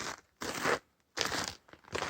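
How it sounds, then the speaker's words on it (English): Footsteps crunching through cold, crusty snow outside a winter wall tent camp at about minus 12 degrees Celsius, three distinct crisp crunches in an uneven rhythm, close by and alone. "As you can hear with the crunching of the snow, everything is pretty crunchy."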